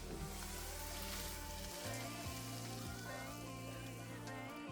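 Onions sauté in a pan for soup with a faint, steady sizzle and crackle, heard under a steady music bed.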